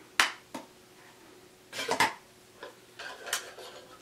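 Metal camping cookware plates clatter and clink as they are stacked together, a few sharp knocks and scrapes spaced across a few seconds in an otherwise quiet room.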